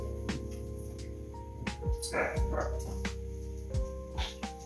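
Dog barking indoors, a handful of faint yips and barks spread out over a quiet room background with some tonal hum.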